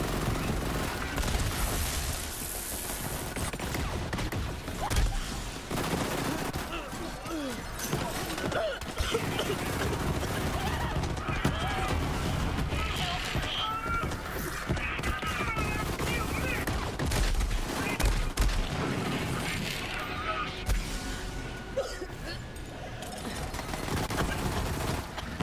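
Troubleshooter SMG fire in Borderlands 3, sustained rapid bursts with dense overlapping shots and game effects throughout, loud and nearly continuous.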